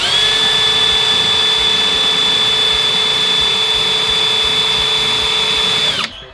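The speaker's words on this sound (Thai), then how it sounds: "ผมใช้เกียร์ปล่อยดำเจาะไม่เข้านะวันนี้ลองดูซะหน่อยนึงครับ" Keyang DM18BL cordless drill driving a roofing screw into thick steel roof framing, a loud, steady high-pitched whine held for about six seconds before cutting off abruptly.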